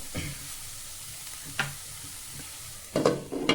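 Fenugreek leaf thoran stir-fry being stirred in a pan, with a soft continuous sizzle and a few scraping strokes at the start, middle and end, the last ones louder and closer.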